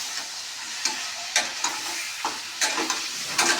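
Egg curry masala for dim kosha sizzles as it is sautéed in a pan, a steady frying hiss broken by repeated scraping stirs, close and with no voices.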